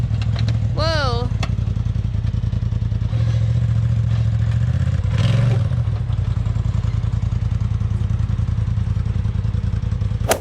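An off-road vehicle in four-wheel low gear climbing a rocky hill in Moab, Utah, its engine droning steadily with a throaty revving surge midway, loud and near, with people talking over it.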